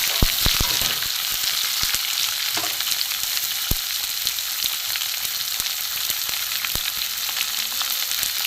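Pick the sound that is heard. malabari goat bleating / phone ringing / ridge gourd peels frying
ridge gourd peels frying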